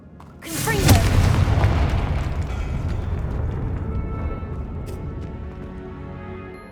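A Confringo blast spell in the Hogwarts Legacy video game bursts with a single loud boom, then trails into a long rumbling decay with scattered debris.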